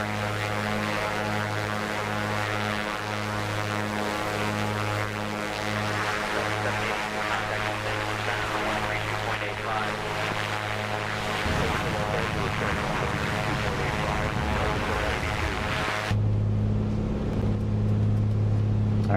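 Propeller engine of an A2A Comanche 250 in Microsoft Flight Simulator 2024, a loud, constant droning hum with a steady harmonic buzz that shifts pitch partway through and holds on without pause.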